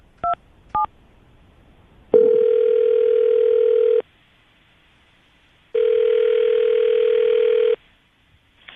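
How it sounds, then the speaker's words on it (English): Two quick dialing tones, then a phone line rings twice with long, steady buzzing tones separated by a pause of silence. "I'm going to call him right now, see if we can get him on the phone"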